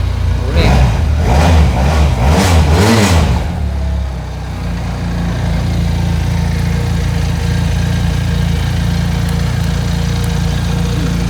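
A Benelli TRK 502X motorcycle engine revs in a few rapid pulses at close range, then settles into a low steady idle rumble as a person talks over it.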